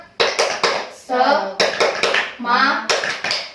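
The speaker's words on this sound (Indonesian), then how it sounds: "mari kita tepuk semangat" A primary school class performs the 'tepuk semangat' clapping chant, bursts of rhythmic clapping alternating with children's voices chanting in unison.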